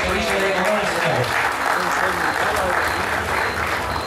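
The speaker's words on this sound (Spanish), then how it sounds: "Un fuerte aplauso" Steady, dense applause from an auction crowd at a horse stud sale, loud and continuous throughout with an auctioneer's voice running over it.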